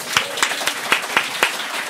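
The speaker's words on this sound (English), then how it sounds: "Give him a round of applause." Half a dozen evenly spaced, crisp claps ring out in a comedy stage show setting, sounding like a small audience clapping in rhythm rather than a full ovation.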